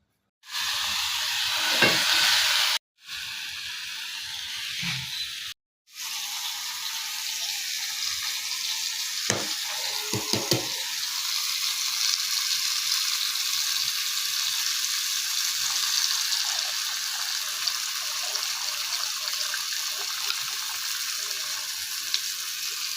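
Bitter greens (tita shak) frying in a pan in a village kitchen, a continuous loud hissing sizzle with a few short cuts near the start and occasional stirring.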